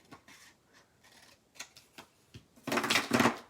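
Paper being cut with scissors for a handmade waterfall journal: a few faint, separate snips, then a louder, closer burst of rustling cutting toward the end.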